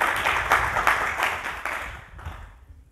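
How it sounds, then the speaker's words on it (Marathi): An audience at a religious gathering claps to welcome guests. The dense applause beats in a loose rhythm, then thins out and fades over a few seconds. "आपण त्यांचे टाळ्या वाजवून खूप खूप स्वागत करू."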